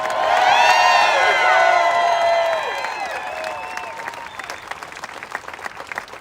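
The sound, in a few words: crowd cheering and applauding for law enforcement at a rally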